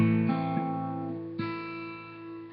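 A minor chord strummed on an acoustic guitar, ringing out with sustained harmonic tones, followed by a couple more strums of the chord, each letting notes decay evenly, played alone without talk.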